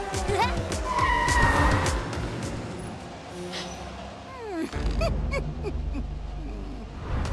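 A cartoon convertible races past at excessive speed, engine whoosh and squealing tyres sweeping through amid lively music, with voices talking over it.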